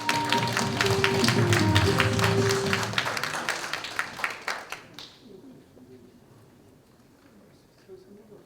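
Dense applause from a lecture audience fills the first five seconds, loud and sustained, honoring a guest professor's special talk on filial piety and education; it then fades to quiet with faint scattered sounds.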